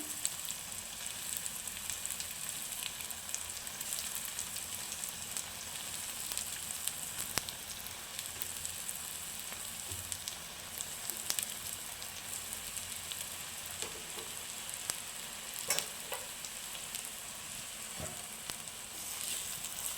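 Chopped liver frying with masala in a pan for an Andhra-style amaranth liver fry, giving a continuous, even crackling sizzle with a few faint scrapes throughout.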